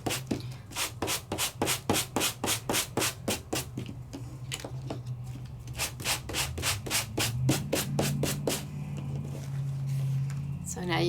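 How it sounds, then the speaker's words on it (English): Embossed die-cut paper is sanded in quick, regular back-and-forth strokes that make a rhythmic scratchy rasp, close and fairly loud, slowing and blurring toward the end while a low voice murmurs faintly beneath at times. "I won't sand the whole thing, but I sanded it and raised that embossing."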